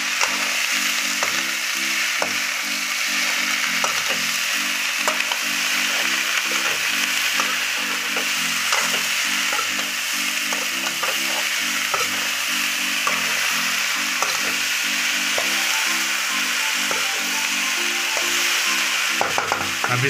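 Sliced okra fries in an oiled pan with a dense, steady sizzle, stirred throughout with a soft repeating scrape and no talking.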